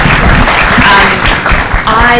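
Audience applause for a panel at a university celebration event, a dense, steady wash of clapping that fills the whole stretch with slight swells and dips.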